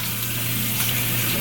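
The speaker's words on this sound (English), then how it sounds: "we'll just like splash some water on my cheeks and see" Water runs from a bathroom sink tap and is splashed onto a face, making a steady close rushing and splashing wash with no pauses.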